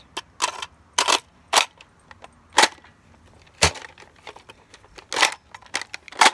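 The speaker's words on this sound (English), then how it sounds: "now you're out, so you want to do the tactical reload. Get another mag just in case." A Nerf blaster is handled during a tactical magazine reload, giving a series of sharp plastic clicks, clacks and rattles spaced irregularly across several seconds, close and fairly crisp with quiet gaps between.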